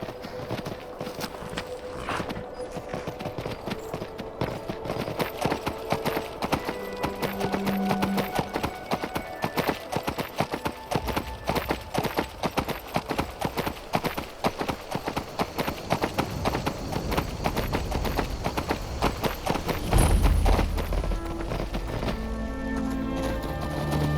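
Hooves clip-clop in a steady rhythm as a horse is ridden in a video game, with a continuous clatter of footfalls over ambient game sound and a brief heavier thump near the end.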